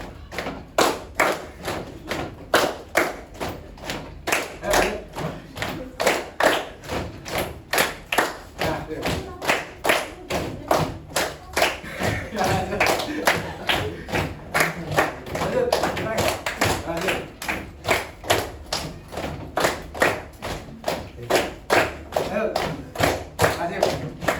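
A class of students does a rhythmic concentration clap in a classroom, producing a long run of sharp, evenly paced, close and loud claps in repeating patterns, with no one speaking.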